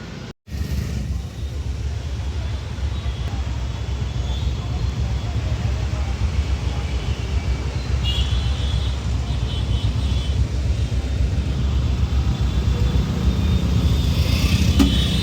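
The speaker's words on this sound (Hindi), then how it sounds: "और ट्रैफिक है यहाँ पे।" Road traffic heard while riding a scooter in a city: a steady, loud roar of engines and wind rumble throughout, with passing vehicles swelling briefly, after a short cut near the start.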